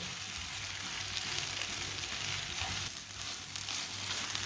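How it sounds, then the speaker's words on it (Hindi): Carrot and cabbage fry with spices in a pan, making a dense, even sizzling hiss that stays steady throughout, with faint stirring scrapes underneath and no talk. "गाजर का, पत्ता गोभी का। इसके लिए हमने 2-3 मिनट के लिए इसे भून लेना है"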